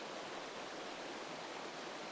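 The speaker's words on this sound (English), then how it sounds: "in the background we can hear the river" A river in a Costa Rican cloud forest rushes in a steady, broadband wash, its constant hiss holding an even level throughout with no voices or distinct bird calls.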